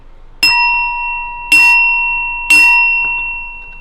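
Three bright, ringing notification bell chimes strike at even intervals, each loud and clear with a long shimmering decay, heard alone without speech.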